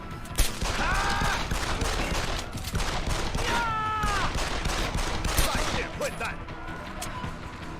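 Gunfire in Deus Ex: Human Revolution, a dense, steady spray of shots filling the scene while in-game voices call out and a cat-like wail rises twice over the din.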